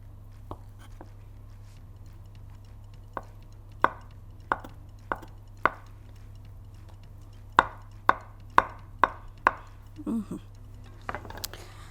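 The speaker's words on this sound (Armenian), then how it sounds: "Այս երկու մասն էլ կտրատենք։" A knife cuts through halloumi cheese on a board with a series of crisp, close chops, some spaced apart and a quicker run of six or seven near the end, over a low steady hum.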